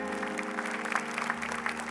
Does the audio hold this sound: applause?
yes